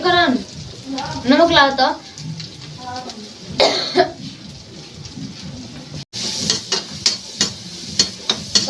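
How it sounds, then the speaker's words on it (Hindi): Onions frying and being stirred in a pan over a village cooking fire, with a steady sizzle and scraping strokes beneath a woman's speech and a few coughs. "तो प्याज भुजा रहा है।"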